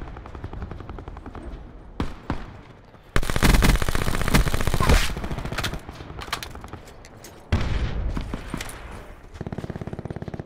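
Submachine guns, an MP40 and a VMP, fire in Call of Duty Blackout on Alcatraz: loud rapid automatic bursts, some long and sustained, others short, close by with brief pauses between volleys.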